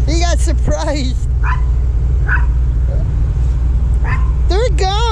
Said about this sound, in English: What are you barking at now?